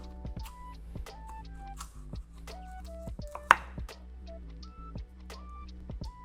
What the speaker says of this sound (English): I'm gonna cut the wedges about 1 inch in thickness